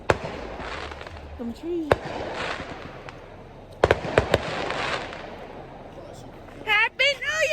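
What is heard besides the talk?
neighbours' New Year fireworks going off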